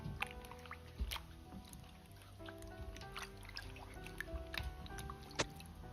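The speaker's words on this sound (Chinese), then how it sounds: "放入水中清洗干净。" Pieces of food are rinsed in a bowl of water while preparing pig trotter soup. Soft splashes and drips sound close and quiet, with a few sharper knocks, under steady background music.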